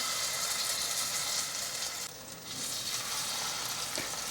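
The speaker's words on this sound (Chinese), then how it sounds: "油热了，放进来煎。" Beetroot and chickpea vegan patties fry in hot oil in a pan, giving a loud, steady close sizzle that briefly dips midway before resuming at full strength, with no speech.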